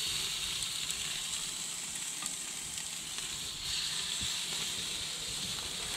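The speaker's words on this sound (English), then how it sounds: "You can hear that sizzle." A fish fillet sizzles on an oiled barbecue grill, a steady, close hiss of frying with faint crackles throughout.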